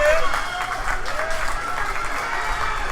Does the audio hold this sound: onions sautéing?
no